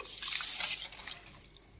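Water sloshes and trickles as soaked millets with fenugreek seeds are swished and rinsed in a bowl, close and fairly quiet.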